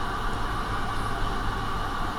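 A train running in Malaysia gives a steady, loud rumble and broadband rush of rolling wagons, continuous for the whole stretch with no voices.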